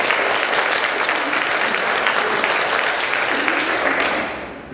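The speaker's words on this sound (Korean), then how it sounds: "하나님께 영광의 박수를." A church congregation applauds with loud, dense, sustained clapping that fills the room, then starts to fade at the very end.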